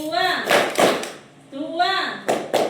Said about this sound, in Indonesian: Ayo, tepuk 1, tepuk 2, tepuk 3, tepuk 2